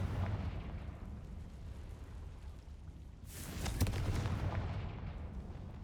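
The Confringo blasting spell exploding in Hogwarts Legacy: a low rumbling roar that fades, then a sudden bright burst with crackling debris that rumbles on.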